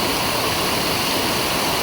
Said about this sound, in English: And look at the water running down here.